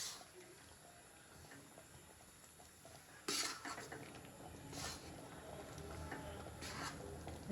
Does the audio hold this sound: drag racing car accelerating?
no